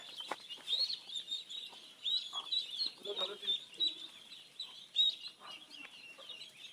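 Small ducklings feeding with a hen nearby fill the scene with a quiet, continuous chorus of high peeping, broken now and then by lower clucks, all fairly faint.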